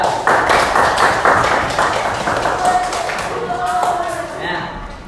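Schoolchildren in a primary classroom clap for a classmate, a burst of many hands applauding loudly and fading over several seconds, with voices mixed in.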